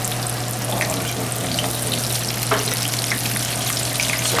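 Oysters fry in a pan at a restaurant oyster bar with a continuous close crackling sizzle, scattered sharp pops over a steady low hum, and no voices.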